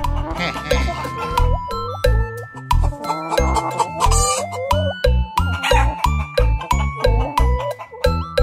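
Cartoon chicken clucking and crowing in quick, rhythmic bursts over bouncy music with sharp percussive hits, close and fairly loud throughout.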